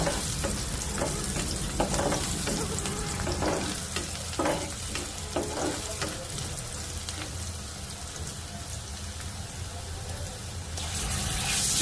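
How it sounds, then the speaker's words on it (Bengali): Chopped onions and dried red chillies frying in oil for a moong and masoor dal with drumsticks, a dense, close crackling sizzle running throughout with scattered spoon scrapes and stirring knocks. "এরপর 5-6টা শুকনো মরিচ দিয়ে তেলে নেব"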